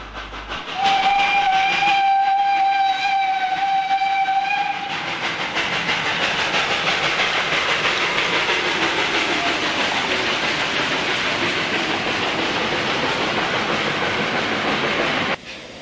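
A steam locomotive whistle sounds loud and steady for several seconds in Eastern Europe around Wolsztyn, then the train's broad rolling and chuffing roar continues near and loud to the end.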